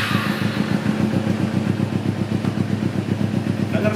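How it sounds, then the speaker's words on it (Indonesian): A Kawasaki Ninja 250 R motorcycle engine idles smoothly just after being started, a steady close, even low pulsing rumble with a light mechanical clatter throughout. "Dengar suara halus mesinnya."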